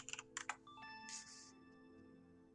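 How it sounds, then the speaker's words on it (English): Several quick bursts of keyboard typing, close and fairly quiet, with a few sustained electronic tones ringing on after the keystrokes stop. "Okay, I'm typing here,"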